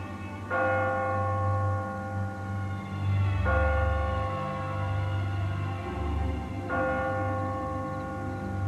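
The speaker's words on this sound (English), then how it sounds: "The bell tower." Church bell tolling from a bell tower, three loud, ringing strikes about three seconds apart, each decaying slowly over a steady low hum, with no voices.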